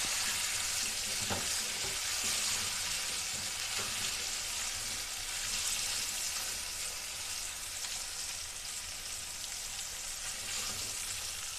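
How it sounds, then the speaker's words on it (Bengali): Taro pieces fry in a pan with a little turmeric and salt, a constant close sizzle with occasional stirring scrapes, steady and unbroken, no voices. "তোমরা দেখতে পাচ্ছ আমার কচুগুলো লাল লাল করে ভাজা হয়ে গেছে"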